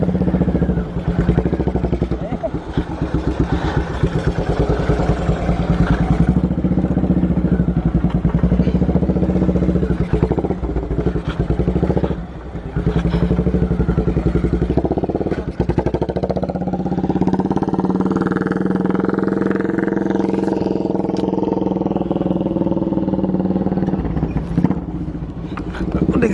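A motorcycle runs fast along a long straight harbour road, its engine droning loud and steady with wind rush and rattle, the pitch rising as it accelerates near the end, with some voices heard now and then.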